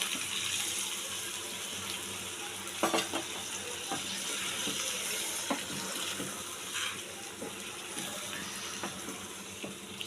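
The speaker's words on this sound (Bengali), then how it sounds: "এবার আমি দিয়ে দেব জল, খুব অল্পই জল দেব।" A small splash of water goes into fish frying in a pan, and the steady hiss and sizzle of the hot oil runs throughout, broken by a few light clinks and stirring knocks.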